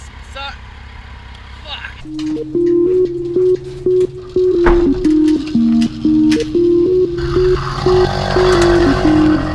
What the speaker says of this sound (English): He says it's a 48cc single cylinder engine.